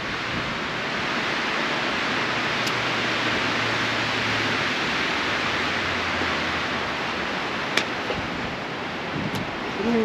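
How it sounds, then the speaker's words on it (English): Wind roars continuously across the microphone outdoors at Loretto Heights, a dense, even rush of noise, with a couple of faint clicks near the end. "it's really windy today"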